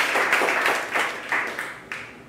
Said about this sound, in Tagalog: Come on, malakas na palakpak para sa ating Panginoon.